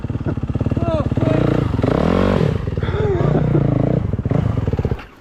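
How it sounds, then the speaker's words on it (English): A big 450cc high-compression motorcycle engine runs loud and close with a rough, pulsing idle that swells into revving surges before cutting off abruptly at the end, while voices talk alongside. "it's not easy because that's a big 450 with a high compression engine"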